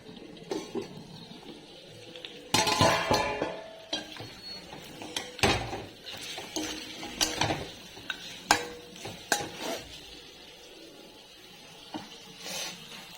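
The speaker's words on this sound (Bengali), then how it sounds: "নাড়িয়ে দেবো" Chicken kosha being stirred in a pan with potatoes nearby: a spoon scrapes and clinks against the metal in irregular strokes, with faint sizzling underneath and no voices.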